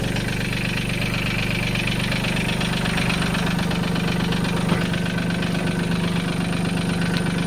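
A tractor engine idles steadily nearby with a low, constant throbbing rumble and faint mechanical rattle, the tractor having a tire off its bead.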